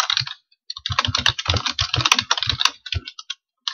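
Computer keyboard typing while entering a line of VB.NET program code, a rapid uneven run of close, crisp key clicks with short pauses between bursts and no talking.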